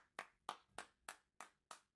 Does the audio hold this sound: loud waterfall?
no